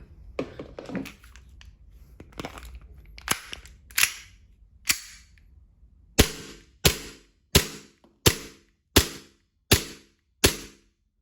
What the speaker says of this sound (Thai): ยิงแน่นๆ นะครับ ลูกหมดนะครับสไลด์ค้าง